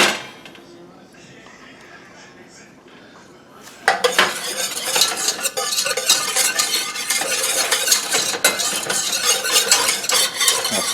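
Hot sauce poured into melted butter in a pan on a kettle grill; after a quiet stretch, loud scraping, clinking stirring and light sizzling fill the rest, close up and busy, with no talk.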